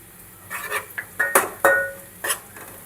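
Sweet corn kernels being tipped into a pan and stirred for fried rice, a handful of close metallic clinks and scrapes of a utensil against the cookware in an irregular rhythm, no talk.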